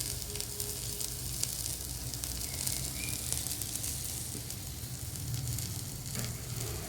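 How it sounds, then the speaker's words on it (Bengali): Bitter gourd and pumpkin fry in a pan, giving a continuous, even sizzle that stays close and fairly soft throughout, with no voices. "এদিকে দেখো উচ্ছে কুমড়ো ভাজা হচ্ছে"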